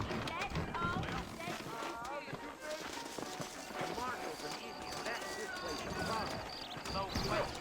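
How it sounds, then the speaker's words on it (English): Saddled horses clip-clop steadily in a Red Dead Redemption frontier town, hooves blending into a busy game soundscape with ambient noise and music throughout. "I got the horses saddled up and ready out front."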